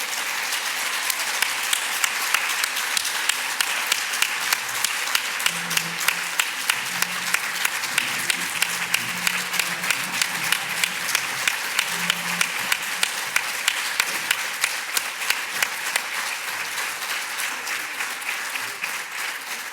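An audience at a Nicolet-Yamaska colloquium applauds its volunteers with sustained, dense clapping that holds steady for the whole stretch, with faint voices briefly mixed in underneath.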